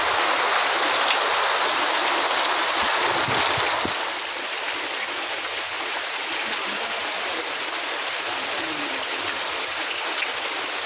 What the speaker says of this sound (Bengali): আর এই যে দেখো আরো কত জোরে বৃষ্টি হচ্ছে দেখো